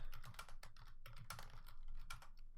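Rapid typing on a computer keyboard, close and fairly quiet, with irregular bursts of clattering keystrokes running steadily through, no voices.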